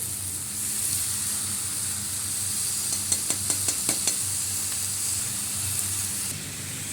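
Leafy greens tossed into a hot frying pan, a steady hiss of sizzling oil with a quick burst of sharp clicks and clanks from stirring midway, no talking.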